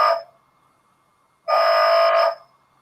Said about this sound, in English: the first buzzer or the first bell, the one just above the used ticket machine, sounds like this